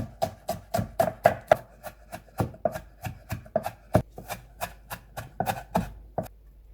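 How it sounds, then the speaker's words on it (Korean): A knife finely chopping green onion on a cutting board for fresh perilla-leaf kimchi, fast regular thuds close by, about three per second, then slowing and stopping near the end, no talking. "대파는 가늘게 잘라서 작게 송송 썰어주고 다져줍니다."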